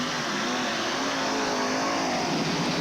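Race cars run laps on a dirt track at the 1985 Kenny Simpson Memorial Race, with a steady, loud blend of engines droning continuously, no voices over the roar.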